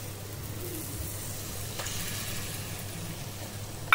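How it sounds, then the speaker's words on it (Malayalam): Ground roasted coconut being stirred into a sizzling curry for inchi puli, with a steady soft sizzle and faint scraping, plus a low hum and a brief sharp clatter at the very end. "ഇനി ഇത് നല്ലപോലെ ഒന്ന് ഇളക്കി കൊടുക്കണം."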